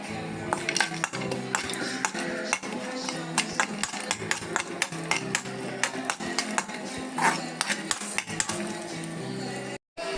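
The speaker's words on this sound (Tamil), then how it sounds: "இப்போ முந்திரியும் பாதாமையும் வறுத்துக்கலாம்." Cashews and almonds roasting in ghee in a kadai, heard as constant close metallic scraping and clinking of a spoon against the pan, with faint sizzling underneath.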